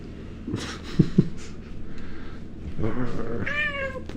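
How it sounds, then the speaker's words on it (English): A cat meows several times in short bursts, with a longer, rising meow near the end, fairly close and alone, with soft breathy sounds between calls. "You're a crazy cat."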